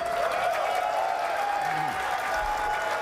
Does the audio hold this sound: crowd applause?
yes